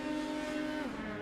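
Cross car race cars at the start of a race, engines droning loudly and steadily with layered harmonic tones, and a pitch shift near the end as the cars accelerate.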